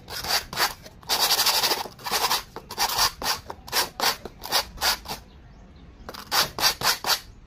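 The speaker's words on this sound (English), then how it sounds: "you have a sandpaper to make it even." Sandpaper rubbed back and forth to even out a rough-trimmed edge while making a blowpipe, giving close, rhythmic rasping strokes in quick bursts with a short pause before the strokes resume.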